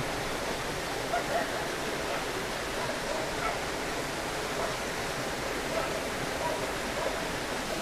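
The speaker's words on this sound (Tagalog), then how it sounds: "Ang sarap ng huni ng tubig." Continuous soft rush of flowing water, steady and fairly quiet throughout, like a nearby stream, with no speech.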